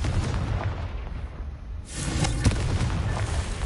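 A Confringo fire blast spell leaves a wand with a burst of crackling noise, followed by a sharp boom over a rumbling background in a fantasy game setting.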